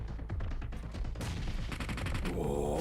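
Rapid automatic gunfire in a PUBG Mobile esports match, dense bursts of shots with bullets whizzing past, loud and continuous with a sharper burst near the end.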